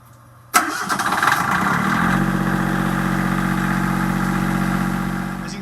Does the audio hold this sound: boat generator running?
yes